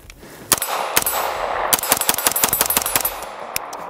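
A short-barrel AR-9 fitted with an Aimpoint Acro sight fires a few spaced shots, then a rapid string of sharp, loud gunshots close to the listener, with metallic clanks between them.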